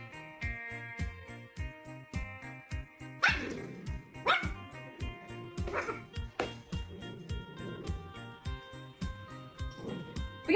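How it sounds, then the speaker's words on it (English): A dog being shaved growls and gives a few short barks and yips, close and moderately loud, over the steady buzz of clippers. "Don't growl at me, that's useless."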